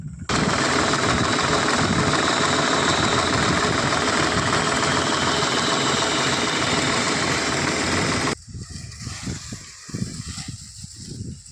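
A tractor engine idles close by with a dense, rapid mechanical chatter that runs steadily, then cuts off abruptly near the end, leaving quieter uneven background sounds.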